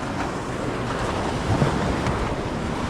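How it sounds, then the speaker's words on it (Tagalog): Continuous wash of sea waves and wind noise, a dense rushing roar with a slight surge partway through, no one speaking. "Medyo may alon"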